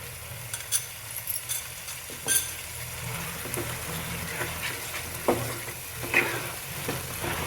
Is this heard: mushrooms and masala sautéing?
yes